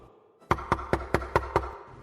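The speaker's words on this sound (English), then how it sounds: "He's just finishing dinner when there's a knock at the door." Six firm knocks strike a door in an even, evenly spaced sequence, close and loud against a quiet room.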